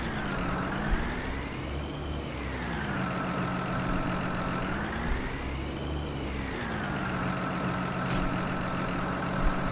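Diesel tractor engine from the Farming Simulator game, hauling a front weight and a diesel tanker, running steadily with a droning hum that rises and falls twice as revs climb and drop, alone without talk.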